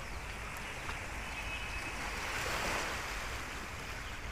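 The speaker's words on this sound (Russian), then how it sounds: "Я сейчас не буду говорить, а вы послушайте шум прибоя." Sea surf on a Turkish seaside coast, a steady broadband wash of breaking waves with wind noise, swelling slightly midway, with no voices.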